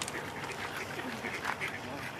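Ducks at the Moncton Zoo give a run of rough, overlapping quacks nearby against steady outdoor background noise.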